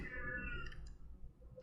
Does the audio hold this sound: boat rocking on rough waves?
no